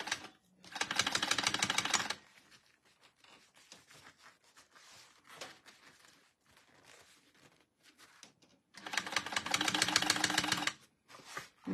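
A sewing machine top stitching a crossbody bag runs in two loud, fast, even bursts of rapid needle clatter, each about two seconds long, with quieter handling sounds of fabric and small taps in the pause between them.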